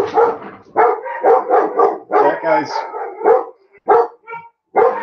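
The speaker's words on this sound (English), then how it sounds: "And there's my dog." A pet dog barks and howls in repeated loud bursts at close range, mixed with someone talking briefly.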